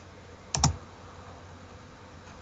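Short bursts of typing on a computer keyboard during an online blitz chess session, a cluster of quick clicks early and another brief flurry near the end, close and fairly quiet over a steady low background.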